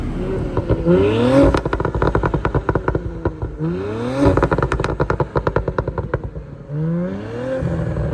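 A stage 1 tuned Audi S4 B9 3.0 V6 turbo exhaust revs repeatedly, rising engine pitch followed by sharp crackles and pops on the overrun, loud and close.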